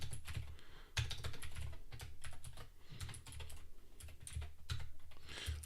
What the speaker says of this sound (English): I moved around my keyboard and stuff to try and make it easier to type, and I'm now having a hard time typing